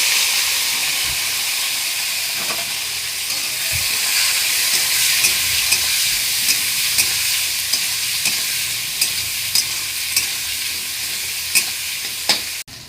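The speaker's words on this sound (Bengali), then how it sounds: "এবারে দিয়ে দেবো পেঁয়াজ, টমেটো, কাঁচা লঙ্কা তেলের মধ্যে" Onion, tomato and green chili sizzling in hot oil in a pan after fish has been fried, a loud steady hiss with occasional clicks of stirring, no talk.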